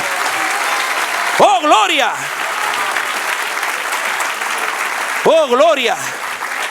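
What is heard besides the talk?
congregation applause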